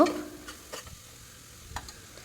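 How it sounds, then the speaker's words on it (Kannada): Fenugreek leaves frying in oil for a biryani masala, a faint low sizzle with a few brief stirring scrapes and taps. "ಮೆಂತ್ಯ ಸೊಪ್ಪು ಸ್ವಲ್ಪ ಕಹಿ ವಾಸನೆ ಹೋಗೋವರೆಗೂ ಫ್ರೈ ಮಾಡ್ಕೊಬೇಕು"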